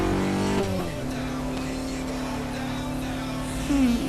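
A jeep's engine drones steadily while driving in a Need for Speed race, a continuous hum that dips and then rises briefly near the end, with no talk.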